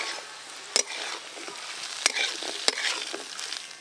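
Homemade raisins and cashews fry in a pan for Bengali fried rice, a close, busy sizzle with scraping stirs and a few sharp clacks of the spoon against the pan.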